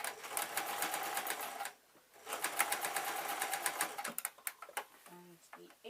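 A sewing machine stitches a zebra fleece bootie slipper in two steady, close bursts separated by a short pause, with brief stop-start stitching and a faint voice toward the end.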